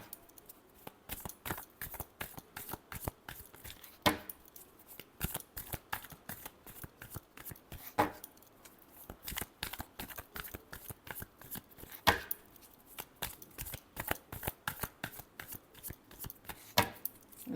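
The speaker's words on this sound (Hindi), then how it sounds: "last shuffle" Tarot cards being shuffled by hand, a steady run of crisp riffling slaps and flicks, close and dry, with periodic louder snaps and no talking.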